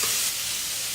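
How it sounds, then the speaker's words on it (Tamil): Beetroot sautéing in oil in a pan over a low stove flame, a steady close hiss of frying with soft stirring, continuous for about a second with no talking. "பீட்ரூட்டை நல்லா எண்ணெயிலே நல்லா வதங்கணும்."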